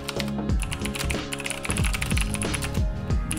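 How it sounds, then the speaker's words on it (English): Fast continuous typing on a mechanical keyboard with green switches, crisp clicky keystrokes in a dense, close, steady stream. "I do adore my green switches. It sounds and feels oh so satisfying."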